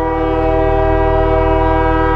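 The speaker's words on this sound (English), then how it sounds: "that is a train coming at probably a slow pace, wailing on the horn" A slow-moving train blasts its horn nearby, a loud, sustained, steady wail with a deep rumble underneath and no breaks.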